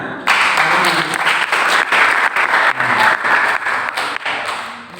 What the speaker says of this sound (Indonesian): Sama juga guru, kasih tepuk tangan.